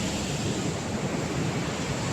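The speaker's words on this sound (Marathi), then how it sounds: "आणि धबधबा पक्का जोरात पडतोय" The Someshwar waterfall pours heavily with a loud, steady roar of rushing water that fills the whole moment with no break.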